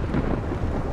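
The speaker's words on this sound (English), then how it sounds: "That's quite the storm." A heavy thunderstorm rumbles in the sci-fi horror game Observer, a dense, loud and continuous roar of thunder and pouring rain with no speech.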